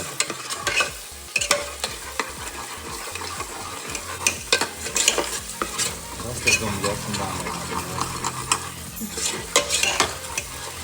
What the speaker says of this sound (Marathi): आपला हा वाटून घेऊया आपण याला चांगला परतून घेतो व्यवस्थित तेल सुटेपर्यंत